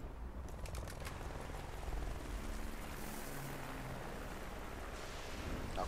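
Helicopters approach in Call of Duty Black Ops, a faint but steady rotor chop and engine rumble running continuously with no talk over it.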